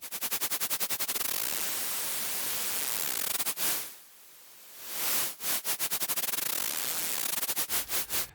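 Loud broadband synthesized noise pulsing in rapid rhythmic bursts from audio-rate LFO modulation in Cableguys ShaperBox 2, dropping into a low filtered sweep midway, then returning to fast stuttering pulses.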